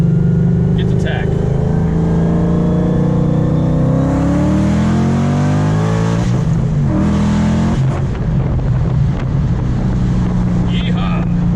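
Supercharged 750-horsepower Mustang GT 5.0 Coyote V8 with a six-speed manual accelerating hard, a loud, close engine roar climbing in pitch through the revs, dropping at a gear change and building again, with voices talking over it.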